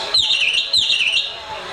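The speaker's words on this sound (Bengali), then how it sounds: "পাখিদের কিচিরমিচির ডাক" Birds chirping as a sound effect during a jatra stage play, heard as a few short, bright, sweeping chirps close together over quiet stage background noise.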